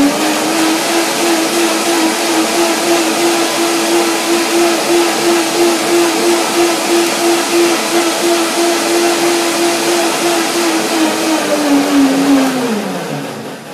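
A blender whirs steadily while refining a chili lime almond dressing of soaked almonds, a loud continuous motor hum that holds even for about twelve seconds before winding down at the end.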